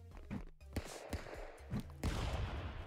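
Gunfire from the Stickfight video game, several sharp shots in quick irregular succession over a busy game soundscape, fairly quiet overall.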